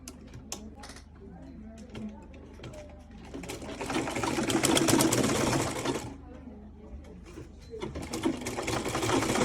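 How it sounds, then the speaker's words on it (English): A sewing machine stitching bias binding along a neckline, a steady quick mechanical whir that starts softly with a few short bursts and then runs in a longer, louder stretch, with a voice speaking between the runs. "I'm just going to sew it once,"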